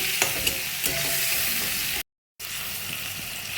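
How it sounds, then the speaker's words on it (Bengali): Chopped onions fry and sizzle in hot oil in a pan for an egg curry, a steady bright hiss with a few stirring clicks, cut by a short gap of silence. "পেঁয়াজ কুচিয়ে রেখেছিলাম ওগুলো ছেড়ে দেবো, দিয়ে হালকা বেগুন মতো ভেজে নেবো।"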